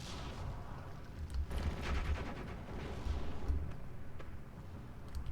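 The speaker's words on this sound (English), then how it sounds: "Mortar rounds coming in on us. Meanwhile, heavy artillery coming around on them." Mortar rounds and heavy artillery firing in the game Steel Division 2, a continuous rumbling barrage of distant booms and crackling fire, steady and low-pitched with no clear individual blasts.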